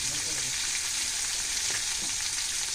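Fish frying in a pan, a steady close hiss of hot oil with light crackling, brief and even.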